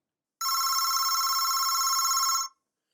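An older-style telephone bell rings in a single continuous burst of about two seconds, loud, close and bright, with a rapid metallic trill that cuts off cleanly into silence.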